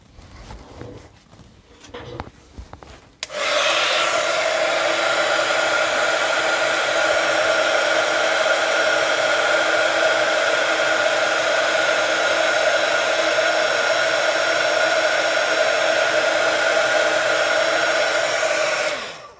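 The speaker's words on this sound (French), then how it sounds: "On va attraper le pistolet chauffant." After a few soft handling noises, a heat gun switches on and blows a loud, steady whooshing stream of hot air that continues unbroken before stopping.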